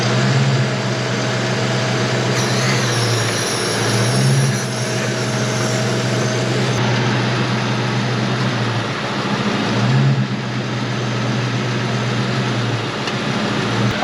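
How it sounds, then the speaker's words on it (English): A 1999 Ford Mustang Cobra's air conditioning compressor runs steadily with its clutch engaged, a loud continuous engine-bay hum with a low droning tone and faint periodic swells, no voices. "the compressor is turning, the clutch is turning it all the time"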